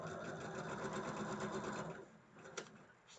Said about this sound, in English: And now I'm sewing on the wrong line.